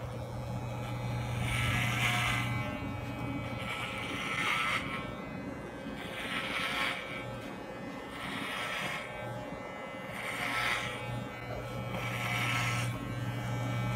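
Electric hair clippers run steadily while cutting hair at the nape and around the ears for a short textured haircut, a close, continuous buzz with small pulses in intensity as the blade passes through hair, and no talking.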